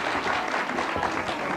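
Audience applause at a Turkish music show honoring a singer, a dense steady clatter of clapping hands that fills the whole moment without a break.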